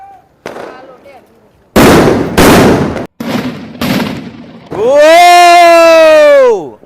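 Several loud, sharp Diwali firecracker blasts crack in quick succession up close, followed by a long sustained tonal whine or shout.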